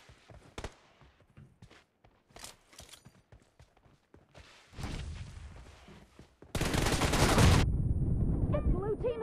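Gunfire in a BGMI team deathmatch mobile game, with scattered single shots followed by loud sustained bursts of automatic fire and a brief ringing tone at the end.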